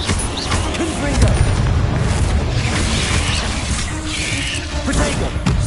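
A booming fiery blast from the Confringo spell in Hogwarts Legacy, loud and sustained amid crashing combat noise, with a voice speaking over it.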